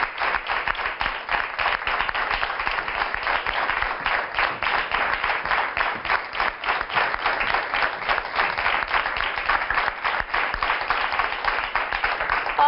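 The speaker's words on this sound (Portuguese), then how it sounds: "Uma salva de palmas para a Rita." Studio audience applause on a Portuguese television health talk show, a loud, dense, continuous clapping from a crowd sustained evenly for over twelve seconds with no voices over it.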